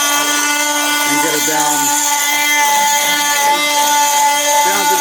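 An oscillating multi-tool chips surface rust off the metal of a school bus being converted into a skoolie. It makes a steady, loud, high-pitched buzzing whine throughout, and a voice speaks over it.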